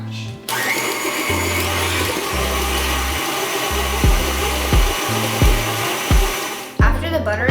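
An electric stand mixer on a high setting whirs steadily while beating butter and sugar for oatmeal raisin cookie dough, close and loud, with bumps and scraping as it churns.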